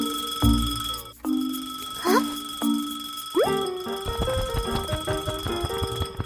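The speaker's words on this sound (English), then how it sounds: "Suddenly, the clock starts ringing loudly." A cartoon mechanical alarm clock rings in several short bursts, then jangles continuously with clanging bell tones and a busy, rattling texture.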